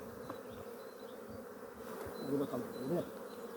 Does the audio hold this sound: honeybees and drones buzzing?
yes